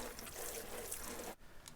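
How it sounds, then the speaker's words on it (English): Water pours from a watering can over freshly sown cucumber seed pots in a greenhouse, a steady hissing splash that runs continuously and then briefly breaks off near the end before resuming. "I can give them a good water in from above with a can."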